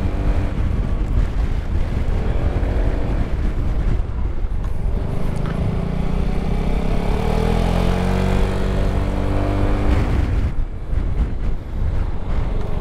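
A Yamaha XMAX 250 or Honda Forza 250 maxi scooter accelerating from a flying start on a dusty race track, engine tone rising steadily under loud wind buffeting, then easing off near the end.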